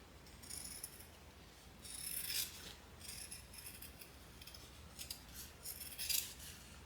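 Scissors trimming a fabric seam allowance down to about an eighth of an inch while sewing a clutch bag, giving several quiet crisp snips in irregular bursts close by, with no talking.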